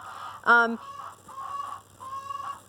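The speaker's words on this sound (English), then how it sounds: "the chickens have had plenty to eat today, and yet they're squawking all afternoon" A loud, harsh chicken squawk bursts out, followed by two more drawn-out cackling calls, close by and without speech.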